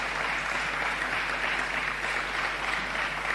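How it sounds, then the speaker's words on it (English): An audience at an award recognition event applauds, a dense, steady wash of clapping that stays loud and even throughout with no voices on top. "big clap"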